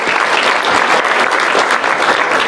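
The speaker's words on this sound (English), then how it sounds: "Let's give him a round of applause." Loud, dense audience applause for a filmmaker, with many hands clapping steadily and close by for the whole stretch.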